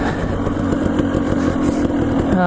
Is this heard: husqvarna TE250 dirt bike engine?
yes